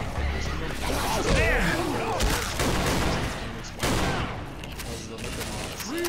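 Rapid gunfire from a modded gun in Left 4 Dead 2 bursts in dense volleys mixed with crashes and whooshes, while game voices call out over it.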